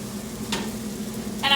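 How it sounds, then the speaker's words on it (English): A mixture of egg and cream cheese being stirred in a pan, with a soft steady sizzle, a brief scrape midway and a louder clatter of the utensil near the end. "I'm going to go ahead and kind of stir it around like you do when you're making scrambled eggs"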